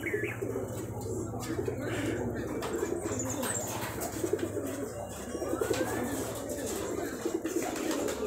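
Rajshahi Giribaz tumbler pigeons coo continuously in soft overlapping rolls, with occasional chirps and brief wing flutters, amid a constant hum and busy outdoor noise.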